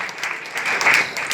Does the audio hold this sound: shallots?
no